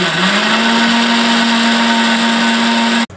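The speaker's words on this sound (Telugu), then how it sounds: "మిక్సీ జార్లో గసగసాలు, టమాటోలు వేసుకొని మిక్సీ పట్టుకుందాం." A kitchen mixer grinder whirs at full speed blending poppy seeds and tomatoes, a loud steady motor drone with a constant hum that rises slightly at the start and cuts off abruptly near the end.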